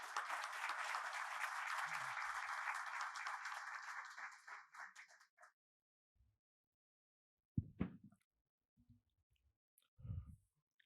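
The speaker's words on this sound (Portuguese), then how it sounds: "Uma salva de palmas." Audience applause greets the president at the opening of an international tax law congress, a dense burst of clapping for about four seconds that fades out, followed by scattered faint clicks and knocks in a quiet hall.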